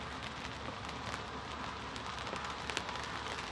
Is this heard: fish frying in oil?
no